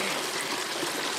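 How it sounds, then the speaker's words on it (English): Shallow Wyoming stream water trickles and babbles steadily close by as a foot dips in, a continuous broadband wash with no distinct splash standing out. "And I'm dipping my foot in the water."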